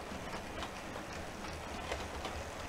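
A model coal train runs eastbound on a model railway layout, giving a steady, fairly quiet rolling rumble with light rhythmic clicking of wheels over rail joints, with no voices.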